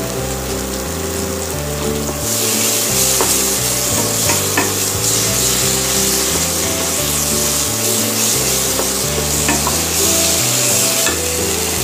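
Fish sagarika cooking in oil in a pan, a steady loud sizzle of frying with repeated scraping and stirring of a utensil throughout, no voices.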